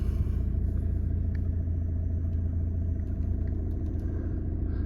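A Skoda Octavia 2.0 TDI vRS diesel engine starts and idles with a deep, steady rumble and faint mechanical clatter, close by and unchanging throughout.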